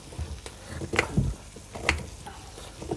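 Chicken wings brown in a pan for a beer soup, giving a soft sizzle with a few clanks and stirring knocks of a utensil against the pan.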